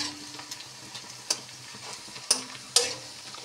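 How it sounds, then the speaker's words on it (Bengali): Onions fry in a pan with a soft, constant sizzle, while a utensil stirs and scrapes now and then, giving a few sharp clinks near the end; no talking. "পেঁয়াজ ভাজা হচ্ছে,"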